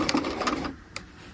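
Sewing machine stitching the under collar onto a half scale jacket, a short close burst of fast mechanical stitching that stops partway, followed by a single small click.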